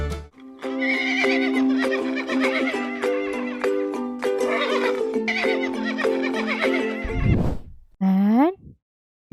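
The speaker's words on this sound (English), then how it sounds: "This is a horse." A horse neighs loudly and repeatedly in long whinnies close by, filling most of the stretch, then a final short whinny rises alone after a brief pause; a voice speaks near the end.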